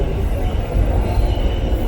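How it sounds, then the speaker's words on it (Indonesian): A train rolls past close to a Sundanese restaurant in central Jakarta, a steady loud rumble of wheels on rails filling the whole moment without a break. "Sebenarnya kita makan dengan suara kereta."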